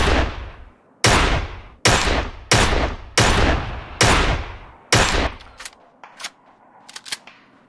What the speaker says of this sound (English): Pops a couple shots.